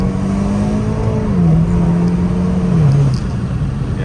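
A modified Hyundai Kona N with a 4-cylinder engine and upgraded fuel pump, in quiet mode, drones loud and steady from inside the car, its pitch sagging slightly in two steps.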